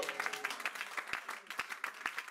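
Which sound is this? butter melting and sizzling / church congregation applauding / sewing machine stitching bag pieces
church congregation applauding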